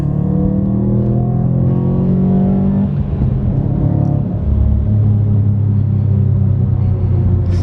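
A Subaru's aftermarket exhaust rumbles low and steady up close on a cold start, the pitch dropping and then settling into a deeper throaty drone.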